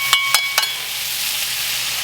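Onions and frozen peas sizzle steadily in butter on a Blackstone griddle, a constant close hiss broken early by three sharp clicks or stirring taps.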